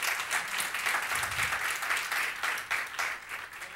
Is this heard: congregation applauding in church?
yes